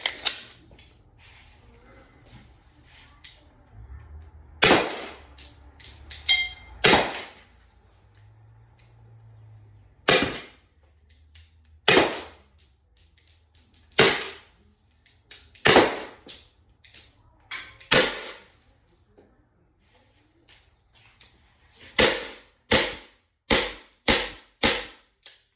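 Byrna launcher fired repeatedly at a soft target outdoors, giving sharp, close pops spaced a couple of seconds apart, then a faster string of shots near the end.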